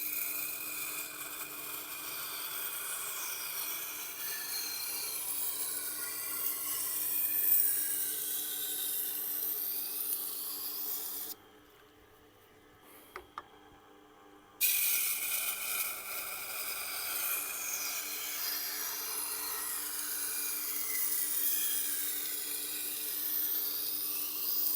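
A large knife is drawn across a sharpening stone in repeated scraping passes, a steady rasping rub with a brief silent pause in the middle.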